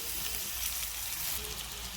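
Rice sizzling and frying in a kadhai for phodnicha bhaat, a steady close crackle throughout with no talking.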